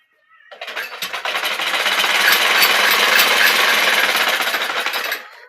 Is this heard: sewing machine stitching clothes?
yes